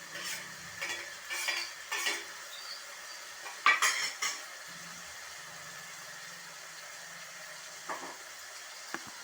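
Curry leaves and coriander sauté in a pan for crab soup, with a steady sizzle under repeated metallic clinks and scrapes of a utensil against the pan, loudest in a cluster near the middle.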